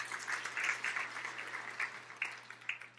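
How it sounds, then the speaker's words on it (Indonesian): Church congregation applauding, a steady spread of many hands clapping with a few louder bursts, faint and roomy over a low steady hum. "Tepuk tangan yang meriah untuk kemuliaan nama Tuhan."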